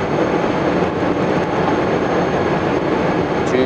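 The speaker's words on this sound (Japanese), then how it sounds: "それではね、無事離陸することができました。" Steady, even rumble of an ANA business class airliner cabin just after takeoff from JFK. The engine and air noise is constant and close, and no voices are heard.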